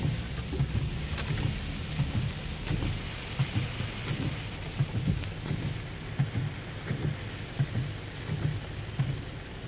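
Steady rain pours down at Avalon Pier on the Outer Banks ahead of Hurricane Matthew, a dense continuous hiss with rumbling low-end gusts and occasional sharper drop impacts, with no voices.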